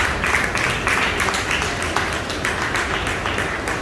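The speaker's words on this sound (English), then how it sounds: "I clap again for Mary Sha" Audience applause for a speaker at a business marketing and branding forum, a steady wash of many hands clapping that holds evenly from start to finish with no voices over it.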